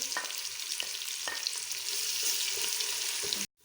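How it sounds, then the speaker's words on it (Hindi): Onions brown in a hot frying pan, giving a dense, even sizzle with a few stirring scrapes before the sound cuts off abruptly. No one speaks. "तो अब मैं इसके अंदर प्याज ऐड करूँगी। प्याज हम ब्राउन करके फिर इसका पेस्ट तैयार कर लेंगे।"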